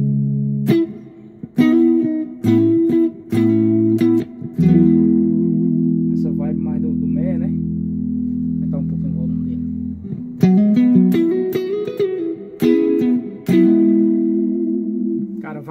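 An electric guitar played through an M-Vave Mini Universe pedal on its spring reverb setting: plucked notes and a long held chord ring out with shimmering, wet tails, close and loud.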